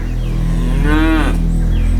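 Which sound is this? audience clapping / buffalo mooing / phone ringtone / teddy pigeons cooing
buffalo mooing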